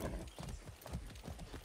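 Horse hooves clip-clop in Far Cry 6 at a steady walking rhythm, faint and slightly distant, with a soft background bed of game ambience.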